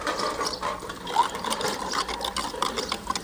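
Water pours into a cooking pot for millet and urad dal rice in a home kitchen, an uneven splashing and gurgling stream, close and moderately loud, with no talk.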